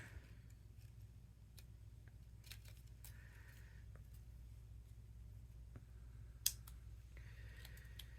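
Scissors snip around a paper leaf while a rustic rose card is being made, giving several short, crisp cuts spread irregularly over a quiet, steady background hum.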